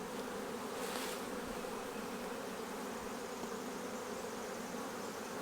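Honey bees buzzing in a brood nest hive, a dense, steady, close-up hum filling the whole stretch with no voices.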